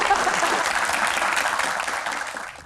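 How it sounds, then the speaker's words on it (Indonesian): Dense applause from a crowd at a Q&A session, loud and continuous, gradually tapering off toward the end. "Tepuk tangan."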